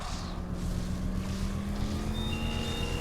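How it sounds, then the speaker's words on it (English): Engine of the Batmobile in the video game Batman: Arkham Knight, a loud, steady motor drone with a rising whine near the end, continuous and close, with no speech. "Gently increase the engine revs to the red line level to power up antenna."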